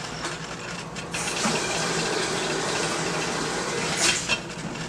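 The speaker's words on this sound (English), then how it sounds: "And now I'm going to add some water to that." Water poured into a pot of salmon gravy on the stove, a steady rushing splash lasting several seconds with a brief louder gush near the end.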